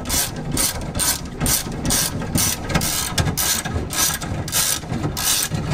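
A car trunk latch on a flood-damaged LeMans Gambler is worked open with a rapid ratcheting, repeated clicking mechanism that runs in bursts close by.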